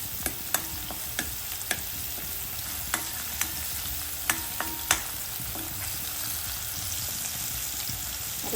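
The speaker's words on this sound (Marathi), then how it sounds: "साईडला आपण या तेलामध्ये खडा मसाला फ्राय करू" Whole spices frying in oil in a home kitchen, a soft steady sizzle broken by sharp clicks and taps of a spoon stirring against the pan.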